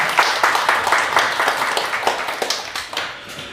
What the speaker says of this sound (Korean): 하나님께 박수 한번 드리겠습니다